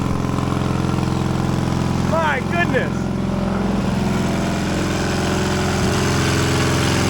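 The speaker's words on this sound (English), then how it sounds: "A smooth running pony engine." The small pony starting engine of an old Caterpillar road grader, locked up after sitting more than twenty years, runs smoothly with a steady, even drone throughout while a person briefly speaks over it.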